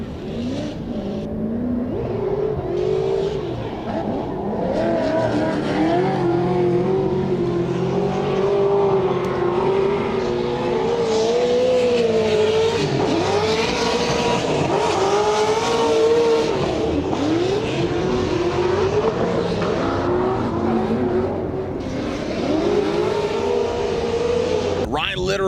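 Nissan GT-R drift cars rev hard and squeal their tires through a 2018 Texas competition run, with engine notes rising and falling continuously under steady commentary.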